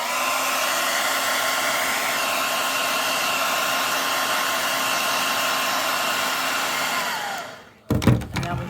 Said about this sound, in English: Grab the dryer here.